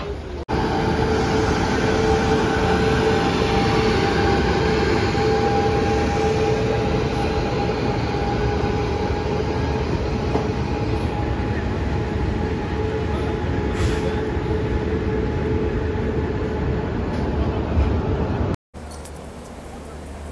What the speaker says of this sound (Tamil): நம்மளோட ட்ரெயின் பார்த்தீங்கன்னா ஷார்ப்பாக 6:25 பிளாட்ஃபார்ம் 7 சென்னை சென்ட்ரல்லேருந்து டிபேச்சர் ஆயிடுச்சுங்க சப்தகிரி எக்ஸ்பிரஸ்